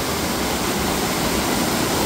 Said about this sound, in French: il y a encore une autre cascade au-dessus là